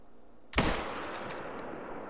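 A single sharp long-distance rifle shot in a kangaroo-hunting video game on the Emerald Coast, a sudden loud crack followed by a long echoing tail that fades slowly.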